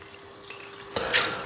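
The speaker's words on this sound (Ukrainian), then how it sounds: "Міняю воду в тарі." Tap water runs into a wide-necked container while shaving water is changed, a faint steady trickle that swells into a brighter splash partway through.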